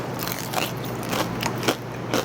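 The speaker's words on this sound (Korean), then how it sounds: "튀김옷이 얇아서 진짜 바삭해요" Close-up crunching of thin-battered crispy fried chicken, several crackling bites and chews in a loose rhythm with no talking.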